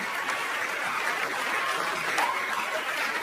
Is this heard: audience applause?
yes